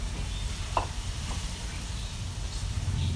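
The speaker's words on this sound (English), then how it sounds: "So now I am going to cook the suji for" Semolina (suji) fries in hot oil for halwa, a soft continuous sizzle close by with a couple of faint clicks of a utensil against the pan.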